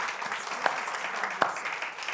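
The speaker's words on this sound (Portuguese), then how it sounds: "Pode dar uma salva de palmas ao único na igreja do Senhor Jesus" Church congregation applauding during a worship service, a steady wash of clapping hands with a couple of sharper, louder claps standing out, no talk over it.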